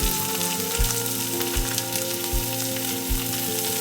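Capsicum and beetroot with other chopped vegetables fry in a pan for vegetable cutlets, giving a steady close sizzle with a low periodic thump recurring about every 0.8 seconds underneath.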